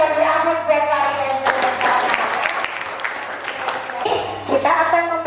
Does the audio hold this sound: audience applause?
yes